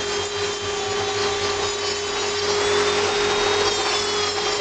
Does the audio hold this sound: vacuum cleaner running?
yes